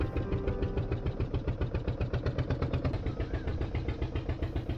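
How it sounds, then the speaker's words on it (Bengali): A boat engine chugs steadily as the boat pulls away from shore at dusk, a loud, even rhythmic knocking of pulses that keeps going throughout with no voices. "সবাই উঠতেই বোট ছেড়ে দিল।"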